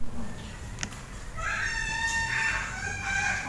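A rooster crows at a chicken farm, one long wavering call rising over constant background clucking and fowl noise, with a brief sharp knock just before it.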